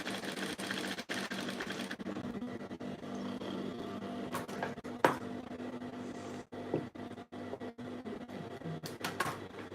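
Sewing machine stitching a dart into the back piece of short pants, a close, steady mechanical whir broken by a few brief pauses and clicks.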